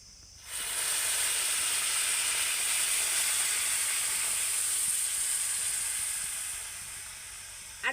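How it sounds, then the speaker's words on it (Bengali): Jaggery goes into a hot pan for a raw mango pickle and sizzles at once: a bright, steady hiss that holds for several seconds, then eases slightly near the end. "এখন আমি গুড়টা দিয়ে দিচ্ছি।"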